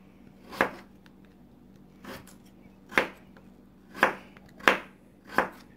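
A knife slices radishes into rounds on a cutting board for pozole, six crisp separate chops spaced about a second apart, close and clear against a quiet room.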